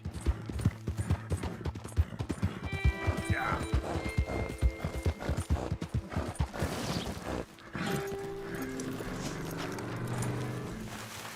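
Horse hooves clip-clop at a brisk, regular pace in the video game Red Dead Redemption 2, close and prominent for several seconds before fading into a smoother ambient backdrop.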